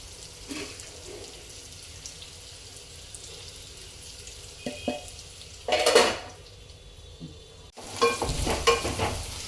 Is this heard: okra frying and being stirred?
yes